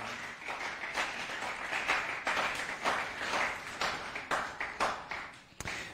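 A church congregation claps together in a steady rhythmic beat, soft and somewhat distant, keeping time for several seconds.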